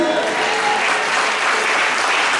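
A church congregation claps steadily in a dense, continuous burst of applause praising Jesus, fairly loud and filling the space, with no speech over it.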